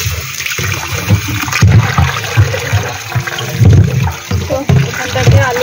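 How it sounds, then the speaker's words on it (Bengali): Dishes being washed under a running kitchen tap, with a steady rush of water and intermittent clinks and scrapes of utensils close by, while a person talks over it. "এই কটা বাসন আছে এখন ধুই"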